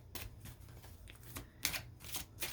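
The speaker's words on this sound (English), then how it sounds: "Let me shuffle a little bit more." Tarot cards are shuffled in a few quick, close, papery riffles with short pauses between them.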